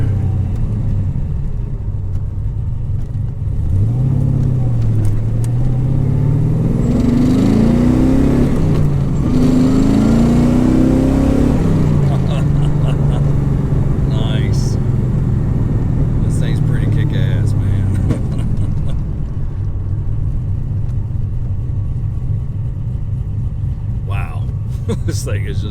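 A Chevrolet F-body car with a supercharged LSA engine and a dual fuel pump setup drives along, its engine rumbling and rising through a couple of strong revving pulls before settling to a steady drone, with someone talking over it.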